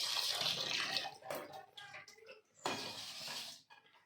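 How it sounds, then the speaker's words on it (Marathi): Amla (Indian gooseberries) being washed by hand in water: sloshing, splashing bursts with brief clinks of a vessel, close by, pausing and resuming, with no talk. "मी खळखळ असं ना 2-3 पाण्यांना स्वच्छ असे ना मी आवळे धुवून घेते"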